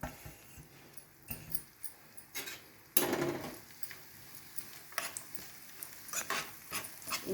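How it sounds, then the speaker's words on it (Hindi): Chopped dry fruits roasting together in ghee, with a spatula clinking and scraping against the pan in irregular bursts and a soft background hiss, close and moderately loud. "ये जो हमने ड्राई फ्रूट्स को कट करके रखा था, इन सबको हम भून लेंगे।"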